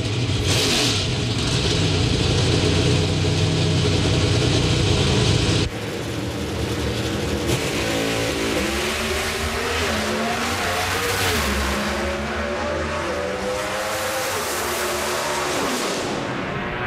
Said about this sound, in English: As teammates, Mike, it's the 11th time they've raced head-to-head.